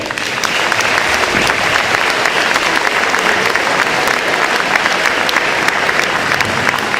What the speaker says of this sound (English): all the players on the floor deserve a round of applause